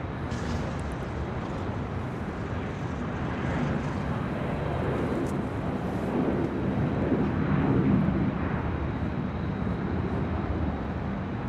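An American Airlines Boeing 737-800 jet at LAX, heading for Chicago O'Hare, gives off a steady, broad roar that swells slightly midway and then holds, with no talk over it.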